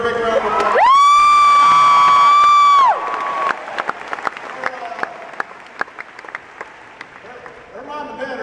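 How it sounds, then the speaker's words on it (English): A large crowd at a university event with President Obama applauds and cheers. A long, loud whoop rises over the clapping at the start, and the applause carries on with scattered shouts. "Give her a big round of applause"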